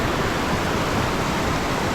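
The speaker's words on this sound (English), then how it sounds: "there's the amount of water just flowing down there" Water rushing down the creek at Punchbowl Falls in New South Wales, a steady dense broadband roar of fast-flowing water, close and continuous with no voices.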